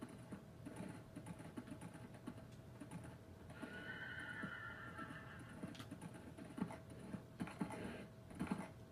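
Horses in Minecraft whinny and clip-clop during a horse race, with a long neigh in the middle, quick hoof clatter and keyboard tapping underneath, all fairly quiet.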